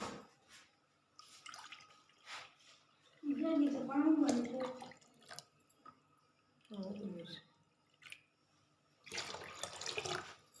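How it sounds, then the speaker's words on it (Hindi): Water from a cup is poured into gram flour batter for kadhi in a kitchen, in several separate splashing, trickling pours between pauses, close and fairly loud, with a person talking in between. "तो यहाँ पे हमने 4 कप पानी शामिल करना है।"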